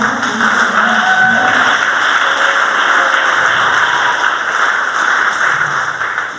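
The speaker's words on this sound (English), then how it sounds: "Clap for me." At an awards night in Monrovia, Liberia, the audience breaks into sustained, loud applause, a continuous dense patter of many hands that holds steady before easing off near the end.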